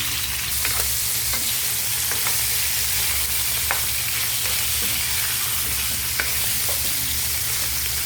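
Chicken with plenty of black pepper sizzles loudly and continuously in a pan while being sautéed, with faint scrapes of a spoon stirring now and then beneath the steady hiss.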